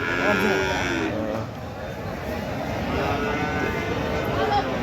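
Busy livestock market din with Holstein Friesian cattle lowing amid a dense crowd of voices and general bustle.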